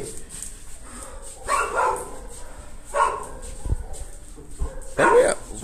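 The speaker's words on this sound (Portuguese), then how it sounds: "Os cachorros latindo." Dogs bark in short, scattered bursts, some nearby and some farther off, with a few yips and whimpers between the barks, during a stick sparring session.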